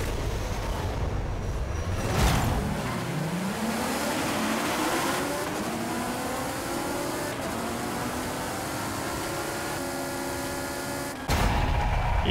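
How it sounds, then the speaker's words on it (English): A 2017 Alfa Romeo Giulia Quadrifoglio in a Forza Horizon 5 drag race on an old airstrip, its engine revving hard and climbing through rising gear pulls, loud and close, with a sharp shift near the end. "we have to win a drag race in the Alfa Romeo Guello Quadrifoglio 2017"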